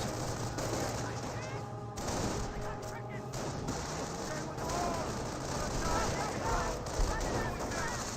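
Volleys of rifle and machine-gun fire in the Company of Heroes real-time strategy game, continuous crackling battle noise with bursts throughout, heard under a caster's steady commentary.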